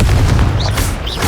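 A Confringo blasting curse in Hogwarts Legacy detonates as a loud, close boom, with punchy explosive bursts and a couple of brief whooshing tails layered over dense low rumble.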